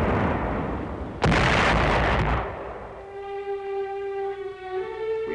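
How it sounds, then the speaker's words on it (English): Heavy wartime artillery barrage at the Anzio beachhead: a loud blast erupts and rumbles, followed by a sustained droning tone, as in an old newsreel soundtrack. "innumerable small infantry fights, and tremendous artillery barrages"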